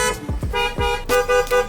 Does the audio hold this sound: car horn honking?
yes